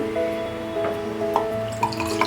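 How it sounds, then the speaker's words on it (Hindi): Water being poured into a cooking vessel to boil rice for egg biryani, a steady close trickle with scattered splashy drips, heard alone. "हम 8 कप पानी डालेंगे।"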